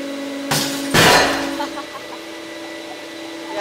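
A hydraulic press crushes a large glass artifact, with two sharp cracking bursts in quick succession and the second louder, then fading crackle and tinkling over a steady machine hum.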